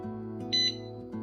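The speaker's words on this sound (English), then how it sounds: "Our pressure canner is now beeping." A single short electronic beep from a pressure canner signalling it is done, over a quiet, steady background hum, fairly soft and close by.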